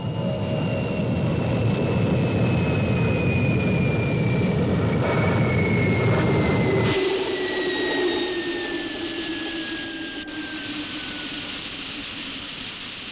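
Roaring spacecraft engine effect from the Fireball XL5 series during a landing, a loud sustained jet-like rumble with descending whine tones that drops in level partway through and continues more quietly, with no talk.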